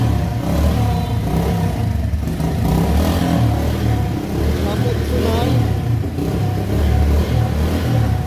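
A modified upright-engine self-start motorcycle with no headlight or meter, its engine revving loudly and steadily up close for several seconds, with someone talking over it.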